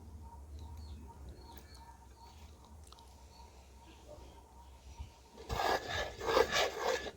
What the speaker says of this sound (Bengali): এই জন্য আমি বারবার নাড়া দিচ্ছি।